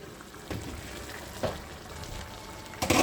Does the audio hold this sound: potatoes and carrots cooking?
yes